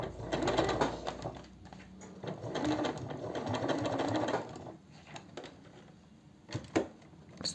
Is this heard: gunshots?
no